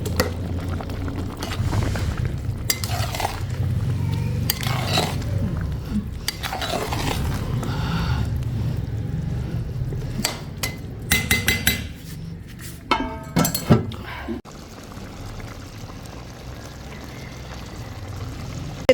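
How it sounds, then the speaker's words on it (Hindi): Rice being stirred in a cooking pot with a spoon, scraping and clinking against the metal in irregular strokes, close and fairly loud, with a few sharper metallic taps near the end. "ये देखें जी हम हिला रहे हैं, चावल डाल लिए थे"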